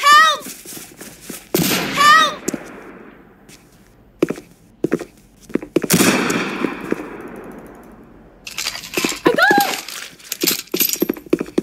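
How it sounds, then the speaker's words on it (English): Gunshots in a Roblox murder-mystery game pop in short, sharp bursts spread unevenly through the stretch, mixed with footsteps and game sounds. "I shot the murderer!"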